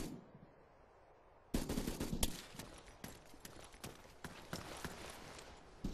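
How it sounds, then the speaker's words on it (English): Rapid bursts of gunfire begin abruptly after a quiet stretch and continue as a string of sharp, irregular cracks, loud and close, with many shots fired in quick succession. "there were shots definitely coming in"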